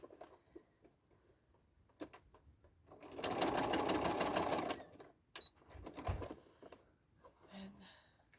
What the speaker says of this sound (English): So I'm going to give this a couple of stitches first.